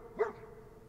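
A single short dog bark from the Fallout 4 video game, quick and moderately loud, standing alone over a low background hum.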